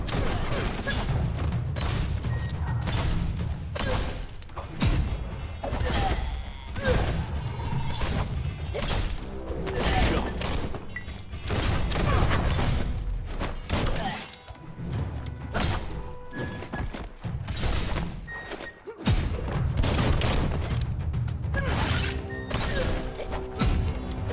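Dense, loud combat in the video game Biomutant, with repeated gunfire bursts, smashing hits and crashes packed together almost without pause over a steady game soundtrack.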